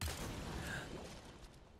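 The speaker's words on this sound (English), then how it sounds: "Maybe a shot from the hand cannon or the magnum gun." A hand cannon or magnum fires in the Resident Evil 4 Remake video game, a loud broadband blast whose rumbling tail slowly dies away, with no talking over it.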